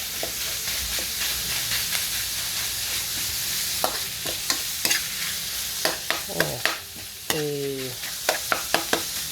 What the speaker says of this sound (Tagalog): Siyempre palulutuin natin yung ating giniling bago natin ilalagay yung ating gulay